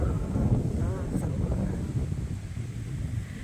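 Strong wind buffeting the microphone on a hilltop at Rock Dunder, a continuous low roaring rumble that stays loud and steady throughout, with a faint voice partly under it.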